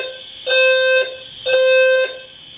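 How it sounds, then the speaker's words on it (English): Apartment building fire alarm sounding during a test: two loud, shrill electronic horn blasts about half a second each, separated by a short gap, close and alone with no talk. "So y'all hear that? That's been going off."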